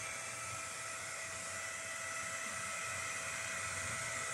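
A G-Will portable cordless heater runs with a steady, even whir of broadband fan noise and a faint constant tone, close and unchanging, with no voices.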